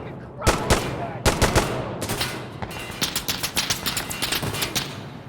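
Gunfire rings out in the video game Insurgency: Sandstorm, with loud sharp shots and rapid bursts cracking repeatedly over several seconds, some grouped in quick volleys, with voices mixed in.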